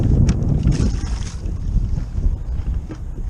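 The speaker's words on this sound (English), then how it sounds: "Wind blowing my bucket off." Strong wind buffets the microphone in a marsh during a storm, a loud, continuous low roar with gusts rising and falling, while water sloshes faintly beneath.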